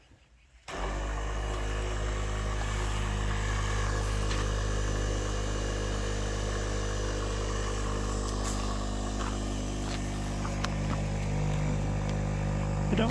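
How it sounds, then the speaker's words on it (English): A pump switches on and drones steadily while pushing RV antifreeze through the plumbing lines, a loud continuous motor hum with a buzzing edge that starts abruptly and holds without letup. "in theory when we turn the pump on, it'll pump that on up and through."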